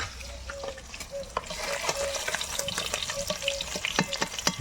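Rohu fish pieces fry gently in a pan, a close crackling sizzle with frequent small pops and spatters that grows busier and louder toward the end.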